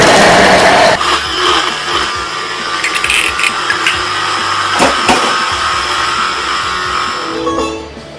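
A Thermomix runs at speed 6, chopping dates with a loud, steady whir that carries on for several seconds before winding down at the end.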